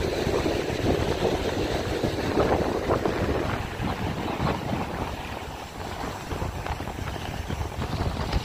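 Strong wind buffets a microphone outdoors on the Polish coast, a constant loud low rumble and roar with gusty flutter and no voices over it.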